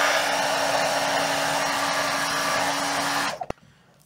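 A heat gun blows a steady, loud airflow roar while heat-setting a fresh coat of paint, holding for about three seconds before switching off and dropping to near silence.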